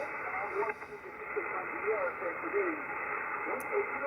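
Steady 160-meter shortwave band hiss on a doublet antenna fills the band, with a faint warbling station barely audible beneath the static.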